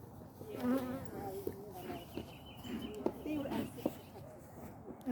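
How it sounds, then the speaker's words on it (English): Honey bees buzz steadily at an open hive during a June inspection while smoke is used between the frames, a continuous insect hum under close talk, with a few sharper sounds scattered through. "use the smoke to get the bees out from between the frames. Yeah, it's okay. Just don't buzz me."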